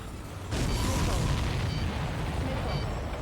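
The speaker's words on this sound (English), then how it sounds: "If we're too close, we'll get caught up in the explosion." A deep explosion erupts in Ace Combat 7 about half a second in, then becomes a loud, sustained rumbling roar with a crackling texture that holds steady to the end.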